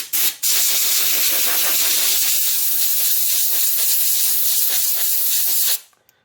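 A strong blast of air blows debris out of the gap left by a damaged hexagon floor tile, one loud, continuous hiss lasting several seconds after a brief false start, then cutting off abruptly.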